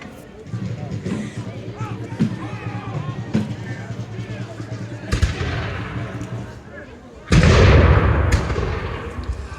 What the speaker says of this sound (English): the Von Boza Regiment are presenting their muskets, and they're firing as well